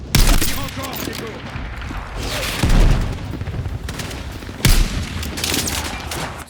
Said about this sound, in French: Lance-roquette, Gecko. Sur la structure.